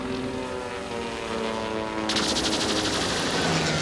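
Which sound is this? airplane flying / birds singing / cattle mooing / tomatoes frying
airplane flying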